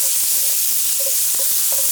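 A large diced onion gets stirred into a browned pan mixture for butterbean succotash: a steady, loud sizzle and hiss with soft scraping strokes of the stirring utensil on top, close up and without speech.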